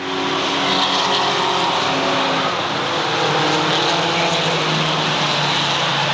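Mini stock race cars roar around the Waterford Speedbowl oval in a loud, continuous blend of engines, steady and close throughout.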